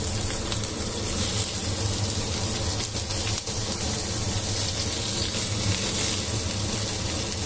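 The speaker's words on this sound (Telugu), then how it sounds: "ఒక చుక్క ఆయిల్ వేసుకుని కట్ చేసి పెట్టుకున్న ఉల్లిపాయలు వేసేసుకుందాం." Chopped onions drop into a drop of hot oil in a pan, setting off a steady, loud broadband sizzle that holds unbroken throughout without any speech over it.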